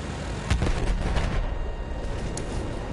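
Gunfire in the Battlefield 1 video game, a sharp loud burst of shots near the start followed by rolling rumble and scattered further shots.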